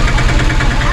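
A motorcycle stuck on a steep rough track runs its engine in a steady, throbbing idle, loud and close, with people talking over it.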